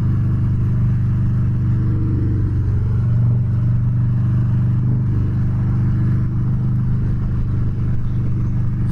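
A 2016 Harley-Davidson Dyna Street Bob rumbles loud and close while riding, its low, steady engine drone holding throughout with slight swells in pitch and no talking.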